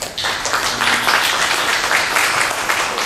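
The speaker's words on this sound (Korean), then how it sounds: "박수로 맞이해 주시기 바랍니다." Audience applause at a 2015 hanok forum held by the auri National Hanok Center, a dense, steady burst of clapping from a seated audience welcoming a presenter, rising quickly and holding at an even level.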